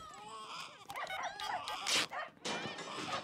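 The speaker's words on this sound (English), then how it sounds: "Dog's scooching on the floor again." A dog scooting on the floor whimpers and lets out short yips and a few barks, close and moderately loud, with voices talking over parts of it in a cartoon scene.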